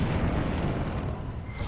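Explosion in the video game Dragon Age Inquisition, a dense rumbling blast that fills the clip with low, sustained boom and no voices over it.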